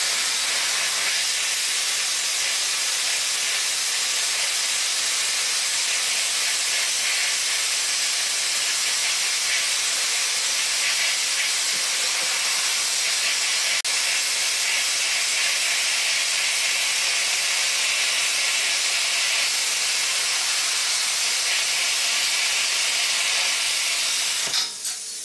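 A plasma cutter runs at 240 volts through thin steel sheet, giving a steady, loud, close hiss like escaping steam that holds unbroken for about 24 seconds before stopping abruptly.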